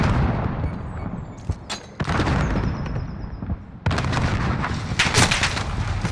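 Loud, dense gunfire in Call of Duty: Modern Warfare, rapid bursts of shots and booming impacts packed close together, with brief gaps between volleys.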